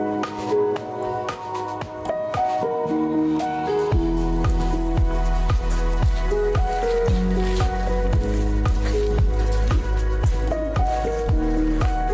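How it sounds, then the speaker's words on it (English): Inside a cave off the D&L Trail near Jim Thorpe, Pennsylvania, water drips land one after another in a fairly regular rhythm with a resonant, hollow ring, clear and close against a low background hum. "A couple water drips, but nothing else."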